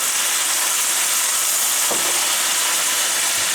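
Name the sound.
white wine added to sautéed clams in a hot pan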